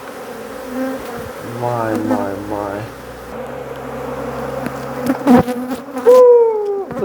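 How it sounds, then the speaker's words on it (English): Dense honeybee buzzing fills the space around a hive built inside a kitchen cabinet, a steady close hum beneath a person's brief speech and handling noises. "I ain't looking through all these bees."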